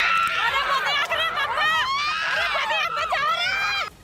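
A crowd screams and shrieks during a street clash, with many high, wavering voices overlapping loudly and continuously, cries rising and falling over a background of agitated babble.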